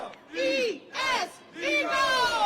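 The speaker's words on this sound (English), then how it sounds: "I love how the crowd they start to chant and then it slowly dies." A stadium crowd chants "Eagles" in three loud, drawn-out group shouts with brief gaps between them, the massed voices swelling and fading.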